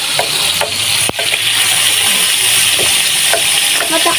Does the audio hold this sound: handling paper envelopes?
no